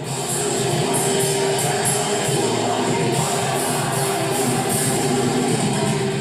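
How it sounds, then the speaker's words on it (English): A huge crowd of Brazilians sings along in Portuguese in a dense, sustained roar of voices, loud and steady throughout, with no other talk. "when thousands of Brazilians sing along to Portuguese language, it sounds like this"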